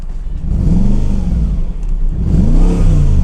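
A Mercedes-McLaren SLR's deep supercharged V8 engine revs twice in quick bursts, loud and close, rising and falling with a throaty roar.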